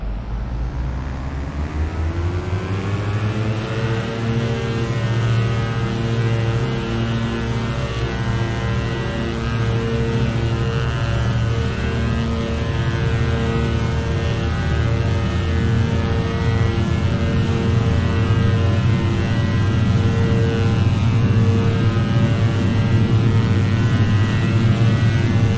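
Diamond DA62 twin-engine aircraft on a long takeoff run at about 8,000 feet elevation: a steady, loud engine and propeller drone rising in pitch as power comes up, then holding constant throughout with no talk.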